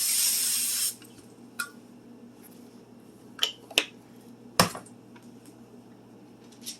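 A short hiss of cooking spray onto parchment paper in an air fryer basket opens, followed by a few scattered clicks and light knocks in an otherwise quiet room.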